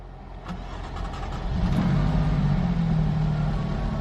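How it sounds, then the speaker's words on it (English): A 2017 Alfa Romeo Giulia Quadrifoglio engine fires up close by, a crank followed by a rising roar that settles into a loud, steady idle drone, with no talk over it. "Now let's start up the 2017 Alfa Romeo Giulia Quadrifoglio."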